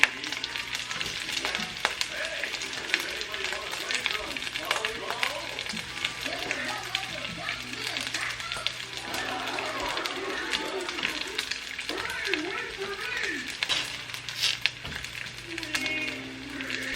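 Thick-cut bacon frying in a pan while a breakfast is cooked: a steady, dense crackling sizzle runs throughout, with occasional clinks and brief speech in the background.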